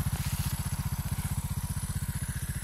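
A Beta Alp 200 motorcycle rides along a snowy winter road, its single-cylinder engine thumping in a fast, even pulse, loud and close for the whole stretch.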